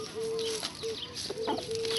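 Chickens cluck and squawk in a backyard with grape vines and trees, short agitated calls and a few drawn-out notes over steady outdoor background noise, close by and fairly loud.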